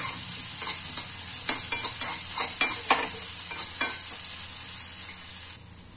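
Finely chopped onion sautéing in a pan with spluttered cumin seeds, a steady bright sizzle broken by several spoon scrapes and stirs, close and continuous until it drops off near the end.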